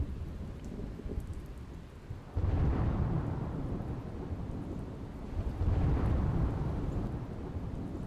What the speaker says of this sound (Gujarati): મહેસાણાના ઊંઝામાં ધોધમાર વરસાદ.